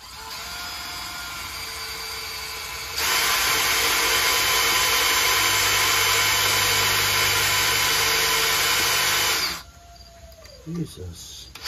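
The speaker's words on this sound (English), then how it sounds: "So I'm going to drill four holes in here." A power drill bores holes into the steel deck frame of a Toro 616Z zero-turn lawnmower during a weld repair, a loud steady whine that climbs in pitch, holds, then winds down, followed by a few faint clanks.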